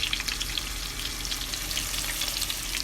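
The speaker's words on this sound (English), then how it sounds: "See them in there good and frying?" Green tomatoes frying in a pan, a steady close sizzle with crackling pops running continuously with no voices.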